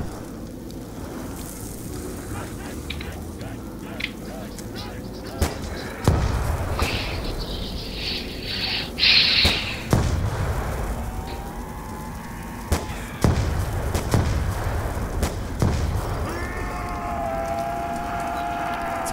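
Revolver shots ring out in Call of Duty: Black Ops II Zombies mode as a series of sharp, loud cracks spaced irregularly among busy game sounds and background effects.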